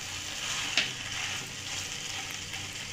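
Boiled pasta being stirred into vegetables in a hot frying pan gives a steady, close sizzle and fry hiss throughout, with a soft scrape of the spoon near the start.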